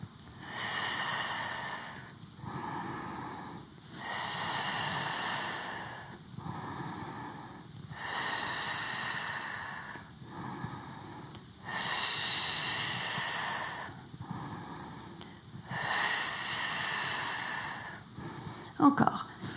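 During a Pilates balance exercise, a person breathes deeply and audibly at close range, with long hissing breaths in a slow, regular rhythm and about eight cycles in all.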